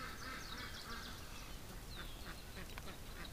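A large flock of more than a thousand ducks quacks in a pen, a dense, continuous chorus of overlapping quacks up close with no clear pauses.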